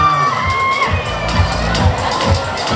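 An audience at a stage event cheers as challengers are welcomed on stage, a steady crowd roar with shouting voices and a few low thumps in the background.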